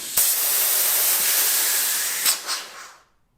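Compressed air blasts in a loud, steady hiss from a standard fitting that fails to seal on a 100-foot Husky air hose, cutting off after about three seconds with a couple of short puffs at the end.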